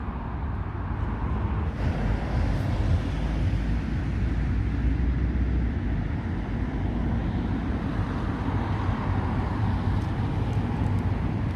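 Steady road traffic rolls around a roundabout, a continuous low rumble and hiss of passing cars at middle distance with no clear gaps, heard from a roadside spot.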